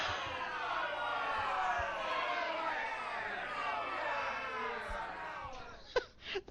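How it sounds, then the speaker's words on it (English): A booing crowd sound effect plays as a long, steady wash of disapproving voices, loud and sustained, with a few thumps and brief noises near the end. "We could drop the booing crowd again."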